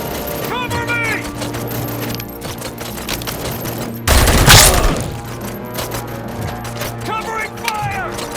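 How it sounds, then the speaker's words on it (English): Covering gunfire in the video game Robocop: Rogue City, loud rattling bursts of automatic weapons over steady background game noise, peaking in a dense volley midway, with voices shouting during the firefight. "Covering fire!"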